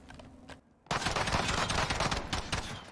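A video game gun fires a rapid, dense stream of shots that starts abruptly after a brief near-silence and stays loud and steady to the end.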